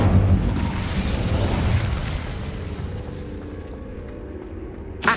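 A fire spell blasts out in Hogwarts Legacy on PS5, a loud, broad roaring burst that holds for a few seconds then fades into a softer rumble, with a sharp pop right at the end.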